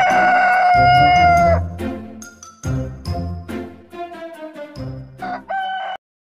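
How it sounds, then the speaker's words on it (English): A rooster crows loudly in one long, drawn-out call, followed by lighter clucks, chimes and tinkling jingles from a children's song, with no spoken voice over it. "H for hen."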